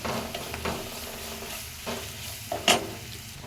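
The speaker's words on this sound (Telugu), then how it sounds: "ఒక స్పూను అల్లం వెల్లుల్లి పేస్ట్ అయితే వేసుకుంటున్నాను పచ్చివాసన పోయేదాకా ఫ్రై చేస్తాను" Ginger garlic paste frying in a pan for an Andhra-style egg, drumstick and tomato curry: a soft, steady sizzle with faint stirring scrapes and a sharper clink near the end, close and alone.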